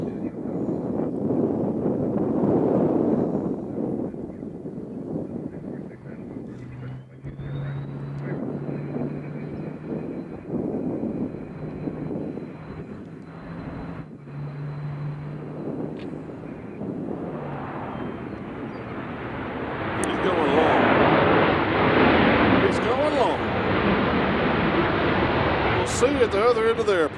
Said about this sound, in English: is going to be Delta Airlines coming in from LAX in the 737-800